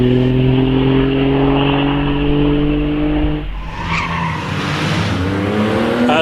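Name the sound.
vintage sports car launching at Prescott hill climb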